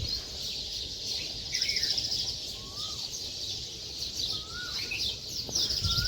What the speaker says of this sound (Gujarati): જો તમે કોયલ કેવા ટવકા કરી રહેલી છે